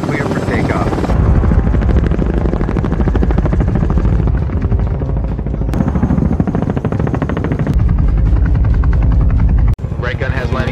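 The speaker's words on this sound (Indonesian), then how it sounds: "Nelson dan timnya pun diberangkatkan ke target operasi dengan menggunakan pesawat Boeing CH-47 Chinook" A Boeing CH-47 Chinook helicopter taking off in the war film 12 Strong: a loud, continuous rotor and turbine roar with rapid chopping pulses and a few sharp cuts in the sound.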